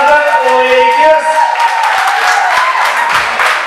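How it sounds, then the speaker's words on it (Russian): An audience at a Fresh Dance Vision 4 dance competition applauds the Lakers dance team. Steady, loud clapping swells in over a fading musical tone and continues densely to the end. "Ваши аплодисменты, господа, Лейкерс."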